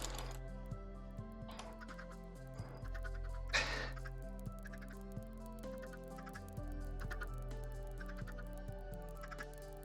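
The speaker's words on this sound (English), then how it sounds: "Look at that, all those chickens" Chickens clucking in Minecraft RTX, soft intermittent clucks layered over a steady low game hum and scattered clicks, at a moderate distance.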